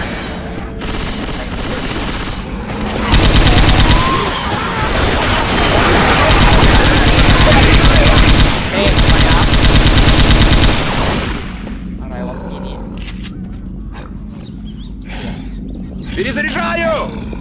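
Dense automatic gunfire blasts from Left 4 Dead 2, loud and continuous through the middle, with a quieter stretch of clicks and rattles near the end that fits a weapon reload, while a voice shouts over it.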